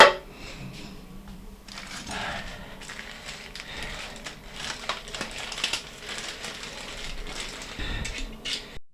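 Pliers turn a nut on a water mixer tap's spout in a series of close, gritty metallic clicks and scrapes, irregular and moderately loud, with brief handling noises between turns.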